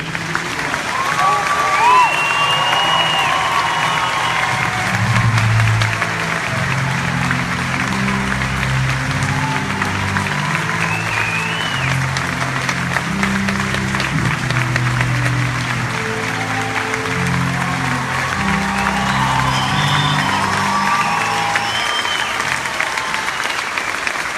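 A graduation crowd at a military parade field applauds and cheers for the United States Army, with sustained clapping, occasional whoops and voices mixed into the steady ovation.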